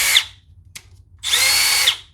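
A Milwaukee M12 subcompact drill fitted with a 5.0 high-output battery spins a speed bore bit in two close, loud bursts of high whirring motor whine, separated by a quiet pause and a brief click.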